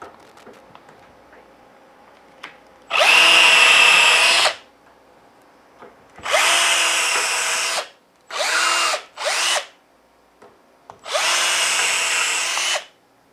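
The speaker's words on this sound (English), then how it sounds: "All that's left to do is drill my pilot holes." A power drill drilling pilot holes in a screen door whirs in four separate bursts, one a quick double run, each a couple of seconds long with quiet pauses between, close and loud.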